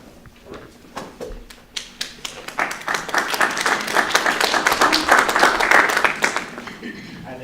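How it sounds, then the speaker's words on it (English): Audience applause greeting Bob O'Sullivan, a candidate for Selectman, at a Stratham voter information night; a few scattered claps swell into steady, fairly close clapping from a crowd that holds for several seconds before easing off. "Thank you for the applause"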